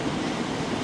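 A train passing through Exeter St Davids station, a brief steady rumbling wash of rail noise close by, with no voices.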